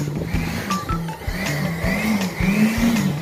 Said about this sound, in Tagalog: Yun, so gagamitan natin ng blower.